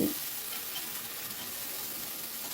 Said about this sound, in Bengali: আদাটাকে একটু কষিয়ে নেব, আদার কাঁচা ভাবটা যেন চলে যায়